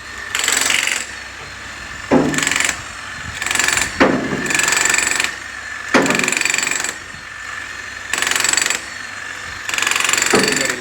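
Bursts of a Hilti power tool drilling during installation of a pivot hinge at a beach house build in Barbados, several loud whining runs of a second or two each, separated by short pauses.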